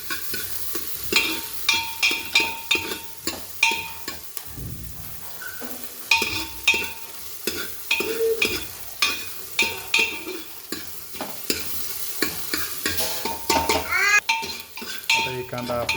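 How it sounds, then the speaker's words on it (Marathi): Chopped onions frying in hot oil for chicken ukad, sizzling steadily while being stirred, with repeated clinks and scrapes of a utensil against the pan close by. "असा आवाज आला पाहिजे तेल गरम झाल्यानंतर."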